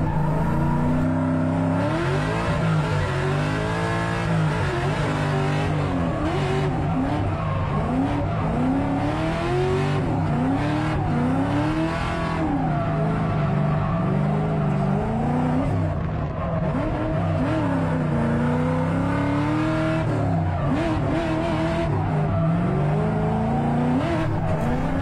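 A race car on a track with tires short of grip and narrow 235-width rubber, its engine droning loud and steady throughout, pitch rising and falling through shifts and corners, with occasional tire noise.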